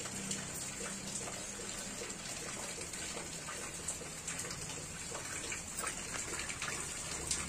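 Steady, dense patter of rain falling continuously, an even wash of drops without pause or talk.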